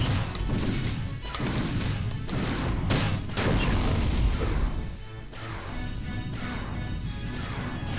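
Spaceship hull struck by capital-ship turret fire in the space combat game Wing Commander Prophecy, a dense run of loud crashing impacts and booming blasts over nearly constant noise, briefly dipping before resuming.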